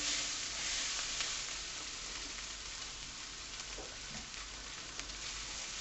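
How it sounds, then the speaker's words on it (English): Powdered spices sizzle in a hot pan for a four-bean chilli, a loud, even hiss of frying with faint stirring scrapes and no talk. "you get that big smack of fragrance from the powdered spices"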